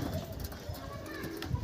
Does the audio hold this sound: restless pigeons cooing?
yes